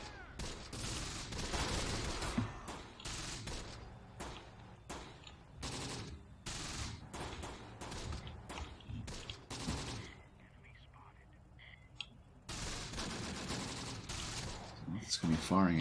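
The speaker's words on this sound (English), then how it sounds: "the other guys are still just firing away" Machine gun and rifle fire crackle throughout a battle in the wartime tactics game Close Combat: The Bloody First, sharp repeated bursts at varying distance with a short lull near the end, partly under quiet talk.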